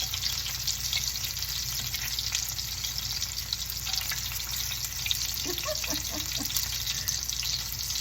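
Meatballs fry in a pan with a continuous, moderately loud sizzle and crackle, close up, plus a few light taps as they are turned over.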